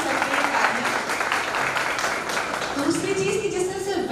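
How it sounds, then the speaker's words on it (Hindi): Applause for the teachers at a school graduation day ceremony, a steady wash of clapping heard at moderate level, with voices murmuring underneath. "सो एक बार तो टीचर्स के लिए सबके लिए ताली."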